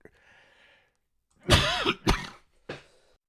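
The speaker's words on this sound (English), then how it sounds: "I would have coughing fits during the show" A short burst of harsh coughs close up, two or three loud hacks with brief pauses between them, following a quiet stretch.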